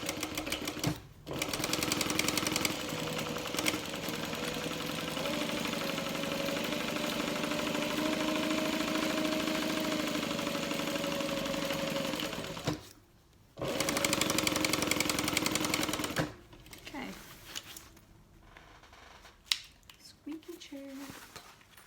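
A home sewing machine top stitches a canvas tote bag, its motor humming steadily for long runs with brief pauses between passes, up close and loud.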